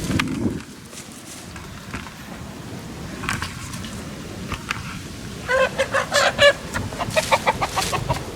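Chickens cluck inside a chicken tractor in a garden, with soft scattered clucks early on and a run of louder, rhythmic clucking near the end. Everything stays close against a steady outdoor background.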